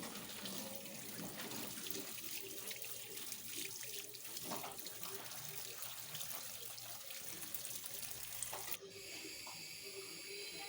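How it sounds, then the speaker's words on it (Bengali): Tap water runs steadily over freshly cut potatoes being rinsed in a kitchen sink, a continuous near splash and hiss that holds through the clip and shifts abruptly near the end. "আমার এগুলো কাটা হয়ে গেছে এবার একটু ধুয়ে নিলাম"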